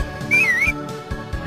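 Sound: whistling in video game Harvest Moon: Back to Nature

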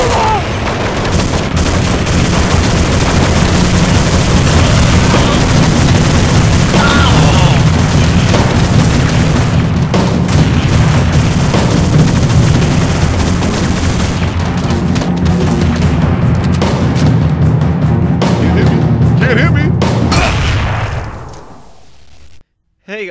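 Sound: gunfire in the video game Counter-Strike

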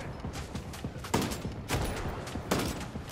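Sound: gunfire in video game Ghost Recon Breakpoint

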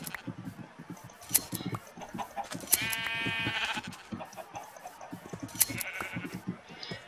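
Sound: sheep bleating in Minecraft-style video game

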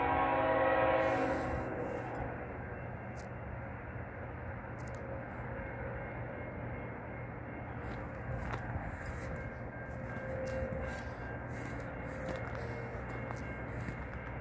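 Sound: CN freight train passing with horn

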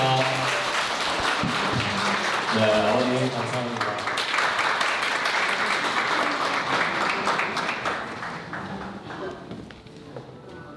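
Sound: applause at a wedding ceremony

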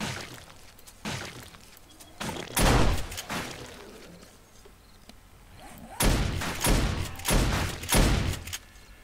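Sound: turrets firing guns in the video game 7 Days to Die

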